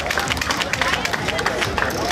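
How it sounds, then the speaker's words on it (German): Crowd at the finish of the Tour de Prignitz cycling race in Wittstock clapping loudly and continuously, a dense patter of hands close by with babbling voices mixed in. "Herzlichen Applaus"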